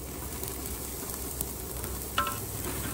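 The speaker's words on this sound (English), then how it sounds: "We're gonna go ahead and grab the steaks and give them a quick sear." Steaks sear on a very hot grill at around 650 degrees, giving a steady close sizzle with a few sharper pops and crackles.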